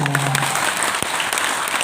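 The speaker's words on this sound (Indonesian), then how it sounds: "Tepuk tangan dong." A short, dense burst of audience clapping rises from a large creativity workshop crowd of about 400 early-childhood teachers in Malang, steady and bright for under two seconds.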